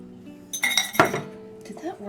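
Short metallic clinks of Pampered Chef mini pie pans being handled in a home kitchen, a few quick bright knocks close by over a second, with a voice speaking around them.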